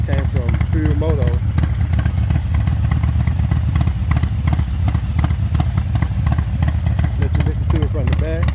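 A 2021 Harley-Davidson Softail Heritage Classic 114 fitted with a 464 rocket cam idles up close with a loud, lumpy, choppy thump, while someone talks over it at the start and end.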